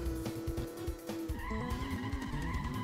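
Race car in a video game skidding through a series of corners, with steady engine drone and repeated tire squeals sweeping up and down, loud and continuous with no talk.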